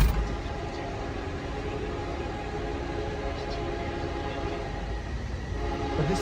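A Union Pacific train rumbles past close by with a steady, loud roar of rail noise throughout, and a horn tone shows up faintly near the end.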